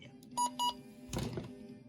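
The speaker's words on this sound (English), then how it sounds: "So when I heard the button beeps on this, I was disheartened." Two short electronic button beeps in quick succession from a Midland HH54 handheld radio, followed by a soft thunk or click, quiet and close.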